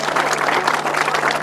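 Crowd applause at an outdoor grasstrack motorcycle meeting for riders on the podium, a dense continuous clapping wash with a faint steady hum underneath.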